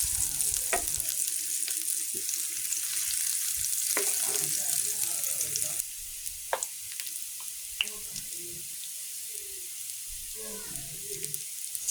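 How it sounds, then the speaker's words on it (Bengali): Onion and garlic sizzle and fry in a pan for shrimp bhuna, a steady crackling hiss with occasional scrapes and knocks of stirring, fainter after midway. "পেঁয়াজ রসুন ব্রাউন কালার হওয়া পর্যন্ত ভাজতে থাকবো"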